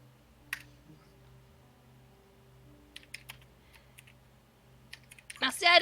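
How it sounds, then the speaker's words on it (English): Sparse taps on a computer keyboard come in short scattered clusters, quiet against a low background hum, growing into a denser, louder flurry of keystrokes at the end. "I wonder if there's mysterious typing going on."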